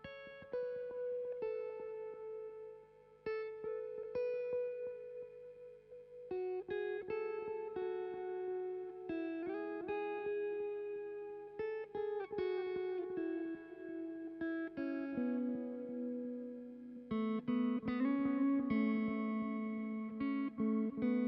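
A guitar riff with effects plays alone, plucked notes stepping through a repeating melodic phrase with a bright, processed tone.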